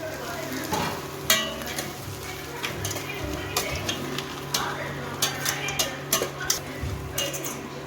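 Dried red chillies are stir-fried with sautéed chana dal chutney ingredients in a pan, giving a soft sizzle broken by clinks and scrapes of a spoon against the pan, close up and fairly quiet.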